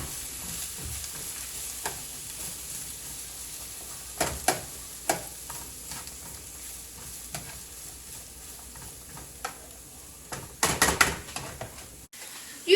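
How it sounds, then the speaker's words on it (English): Onions cooking down in a pan for beef stroganoff, a soft, steady sizzle punctuated by occasional spoon scrapes and clatters that grow busier near the end, with a sharp knock at the close. "We're gonna let those onions cook down a little bit, and then we will add the mushrooms in."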